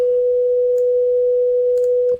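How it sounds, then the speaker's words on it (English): A synthesizer oscillator sounds a pure, steady sine-wave tone, loud and alone, holding one pitch before cutting off abruptly near the end, with a couple of faint clicks. "So you can see the sine wave shape there."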